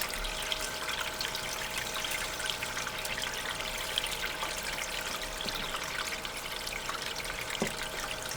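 Water trickling and pouring steadily over a gold pan holding fine gold, a continuous close wash with no talk.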